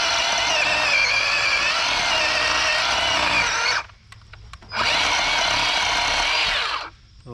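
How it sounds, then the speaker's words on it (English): A Worx 20-volt cordless chainsaw cuts steadily in two long bursts with a brief pause between them, loud and close, its whine holding a constant pitch. "If you force the saw too much, it'll kind of die out with the battery."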